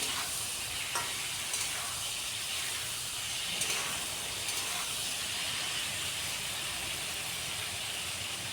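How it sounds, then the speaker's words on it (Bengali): Ridge gourd frying in a pan with a pinch of turmeric, giving a steady, fairly faint sizzle and hiss with occasional light stirring scrapes throughout. "বেশ কিছুক্ষণ একটু ভাজা ভাজা করে নিলাম ঝিঙ্গা।"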